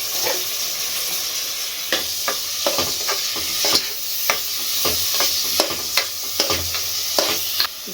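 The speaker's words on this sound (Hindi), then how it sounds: "दाल डाल के इसको ऐसा भूनेंगे दाल" Dal frying in a pan at home while a spoon stirs it, a steady bright sizzle punctuated by frequent sharp scraping clicks of the utensil against the pan, close and clear with no talking.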